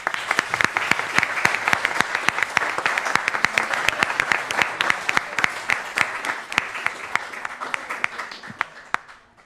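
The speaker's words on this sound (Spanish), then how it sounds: "Los despedimos con un aplauso." An audience at a hybrid legal seminar held by the Puerto Montt Court of Appeals applauds the panel speakers with steady clapping and sharp individual claps, gradually fading over about nine seconds.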